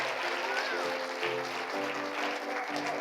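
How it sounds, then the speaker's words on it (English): A theater audience claps in a dense, sustained burst of applause, loud and close throughout, with a voice speaking over it. "Let's give them a nice big round of applause."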